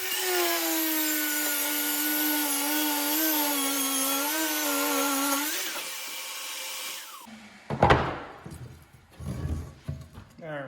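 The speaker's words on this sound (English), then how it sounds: "Set the track on first. Put your saw on." A track saw cuts a barnwood plank on a workbench, its high whining motor running steadily for several seconds before spinning down, followed by clunks and handling knocks of wood.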